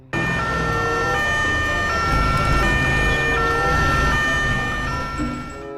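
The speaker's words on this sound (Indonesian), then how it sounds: "Wow, ternyata mobil ambulan" A red toy ambulance wails its siren, a loud electronic tone cycling up and down continuously and close by.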